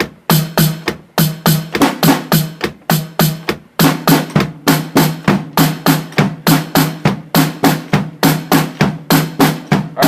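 A drum set plays an even triplet groove, right hand, left hand, then bass drum, cycling steadily and loudly up close with a crisp, repeating pulse and no talking over it.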